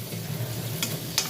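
Bora fritters frying in shallow oil in a pan, a soft continuous sizzle with two brief scraping stirs, close and quiet, no talking.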